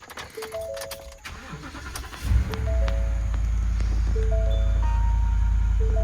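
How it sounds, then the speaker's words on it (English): A Ford F-150 pickup truck engine cranks briefly and catches, settling into a steady low rumbling idle, close and loud, with a faint electronic beep earlier. "So go ahead and start your truck."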